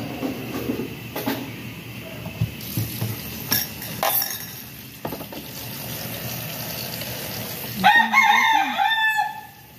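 A rooster crows loudly near the end, its call rising and falling, after a stretch of scattered clinks and background clucking.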